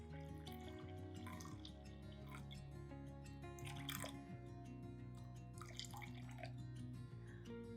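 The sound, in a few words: room temperature water poured from a honey jar into sourdough mix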